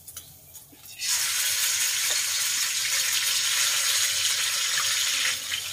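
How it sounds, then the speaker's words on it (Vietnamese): Meat dropped into hot oil in a pan bursts into a loud, steady sizzle that continues evenly for several seconds, close by and with no talking, during home cooking of a southern Vietnamese dish. "Mình cho thịt vô mình chiên."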